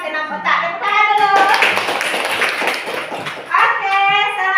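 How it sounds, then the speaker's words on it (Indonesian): Classroom clapping by schoolchildren after a correct answer in a lesson. A burst of rhythmic, close hand claps fills the middle, with a teacher's and children's voices talking before and after it. "Tepuk tangan dulu."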